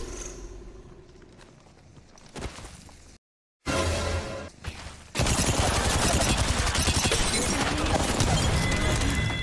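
Gunfire in the Apex Legends battle royale game, bursts of rapid shots and impacts that build into a loud, dense, continuous volley after a brief silence, with whooshes and footsteps mixed in.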